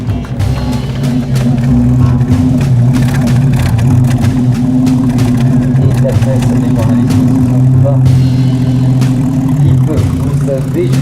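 A Rosengart Supertraction classic car engine runs steadily at close range, a continuous low rumble throughout, with people talking over it at a car show.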